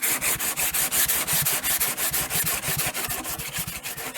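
Sandpaper rubs back and forth on the back of a padauk wood guitar neck in quick, even strokes, a close, steady rhythmic rasping of about six strokes per second with no talking.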